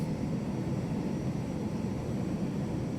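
Airliner jet engines roaring at full throttle on a takeoff roll, a steady, loud broadband rumble heavy in the low end that holds constant throughout with no voices.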